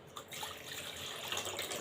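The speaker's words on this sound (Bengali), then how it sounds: "এখন আমি এর ভিতরে পানি দিয়ে দিব পরিমাণ মতো।" Water pours steadily into a pot of duck meat being cooked with coconut, a short close splashing stream with no voices.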